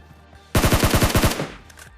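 A rapid burst of SLR rifle fire in a shooting video game, about nine loud sharp shots in quick rhythm, fading into a short echo.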